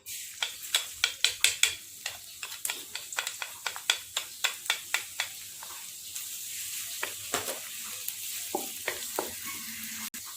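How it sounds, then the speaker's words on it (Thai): Garlic frying in a little oil in a pan for a Tai Lue peanut dish, with repeated sharp sizzling bursts and stirring scrapes, close and steady over a faint hiss, no talk. "เราจะเจียวกระเทียมก่อนนะคะ"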